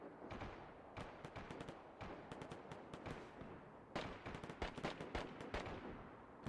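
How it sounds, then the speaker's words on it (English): Heavy guns firing in a distant battle: a dense, continuous roll of overlapping booms and cracks, with louder volleys clustering near the end and no pauses. "Don't you hear those big-ass guns?"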